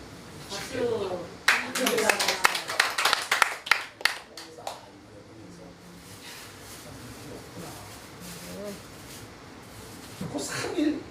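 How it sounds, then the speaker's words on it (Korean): Church congregation clapping in an irregular burst of sharp claps lasting a few seconds, then fading, with a voice speaking before and after and a brief return of claps at the end. "박수."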